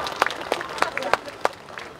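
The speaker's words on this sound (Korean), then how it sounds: "여러분 박수로 화답해 주시면 감사하겠습니다." At a ceremony marking KTX trains stopping at Mulgeum station, a handful of sharp, separate hand claps ring out in a loose, evenly spaced rhythm over a low murmur of voices.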